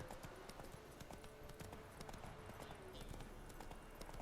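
Horse hooves clip-clop in a steady galloping rhythm during a horse race in the Witcher 3 video game, a continuous fast patter of hoofbeats over faint ambient game sound.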